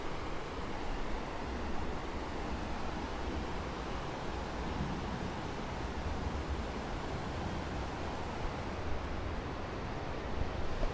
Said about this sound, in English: Can you hear the gurr of the water?